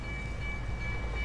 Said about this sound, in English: Where's the train coming from?